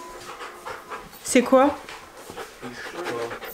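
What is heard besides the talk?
dog panting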